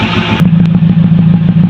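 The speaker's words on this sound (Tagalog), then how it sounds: "Ayan, yung tunog ng tambutso ngayon." Motorcycle exhaust with a hard-starting fault, a loud close engine idling roughly with a steady stream of rapid pops and putters from the pipe.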